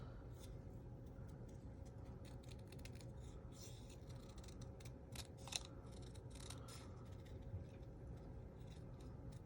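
Scissors snip through paper pieces for a carrot-shaped card in faint, close, irregular cuts over a steady low background hum.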